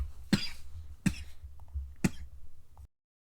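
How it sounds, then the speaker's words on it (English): A man with a dry throat coughs three times at roughly one-second intervals, each close, sharp burst trailing into a softer rasp before silence. "Sorry for the coughing."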